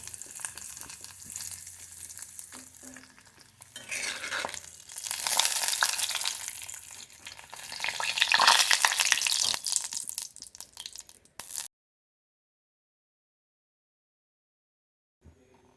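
Radish greens frying in a pan at home, a loud crackling sizzle with stirring and crushing, swelling and easing across several seconds, then cutting off into silence with one faint later sound.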